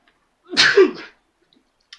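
A single close, sharp sneeze from a man with a cold, bursting out once in a quiet room with no talk around it.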